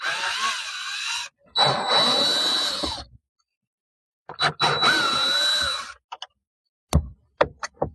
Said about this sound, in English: We use a drill.